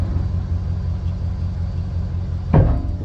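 A vehicle creeps slowly forward in a low, steady engine rumble, with a brief thump partway through.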